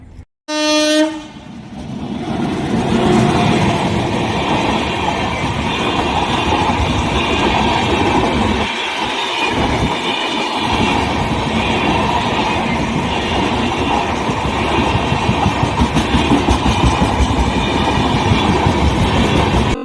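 A loud train horn blares at the start, then a train rumbles steadily past nearby with rhythmic clattering of wheels on the rails.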